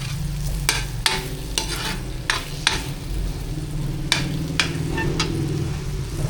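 Food frying in its own rendered fat sizzles steadily while a utensil stirs and scrapes the pan in repeated sharp strokes, close and busy.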